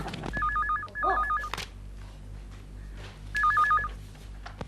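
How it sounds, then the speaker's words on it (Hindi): A landline telephone rings in a home, two bursts of the warbling electronic ring a couple of seconds apart, loud and close over a low background hum. "डैडी, फोन उठाओ।"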